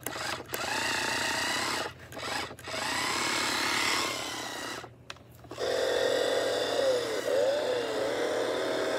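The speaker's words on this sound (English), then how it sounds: "Fake chainsaw. Fake." A fake chainsaw in a movie scene revs in loud, buzzing bursts with short gaps, then settles into a steady droning whine.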